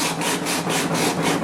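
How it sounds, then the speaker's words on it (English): Sandpaper rubs back and forth along the wooden neck of a homemade cigar box guitar, making loud, steady, rhythmic strokes about five times a second. "We're busy sanding down the neck to smooth it out."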